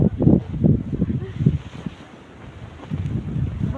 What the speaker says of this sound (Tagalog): ang hangin na grabe na kusog na gid